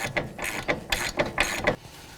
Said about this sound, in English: 22mm socket. We're gonna snug that up.